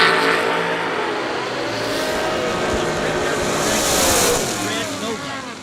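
A drag race run at the IHRA World Finals, a two-tone Nova against a dragster, with loud engine roar and revving throughout, swelling near the end, under an announcer's voice.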